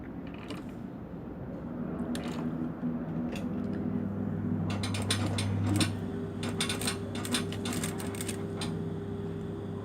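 Sewing machine stitching a folded, curved shirt hem in a tailor's repair job, a steady mechanical whirr with a low motor hum that rises midway, accompanied by rapid clicking and clattering in short bursts.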